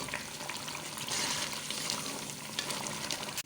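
Masala for lobia salan sizzles and fries in ghee in a pan, a close, steady crackling hiss with faint stirring scrapes, no one talking.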